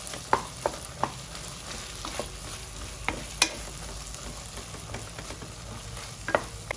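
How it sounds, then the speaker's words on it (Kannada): Ground masala paste frying in oil for a rajma gravy, a steady close sizzle broken by sharp spatula taps and scrapes against the pan at irregular intervals, with nobody speaking. "ಮಸಾಲೆ ಜೊತೆ ಸೇರಿಸಿ ಹುರ್ಕೊಳ್ಬೇಕು."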